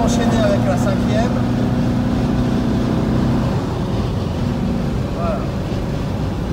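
A 1971 Porsche 914 cruising in fifth gear produces a loud, steady engine drone with a humming tone that drops in pitch partway through, then settles into a rougher, quieter rumble.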